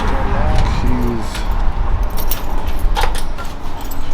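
Keys jingle and clink close by in short, irregular bursts against a steady background rumble.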